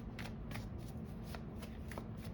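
A deck of tarot cards is shuffled by hand in a steady riffling rhythm, soft papery flicks repeating about every half second, close and fairly quiet with no one talking.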